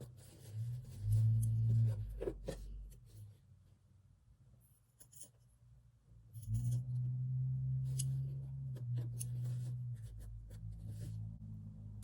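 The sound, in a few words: scissors trimming embroidery turkey work pile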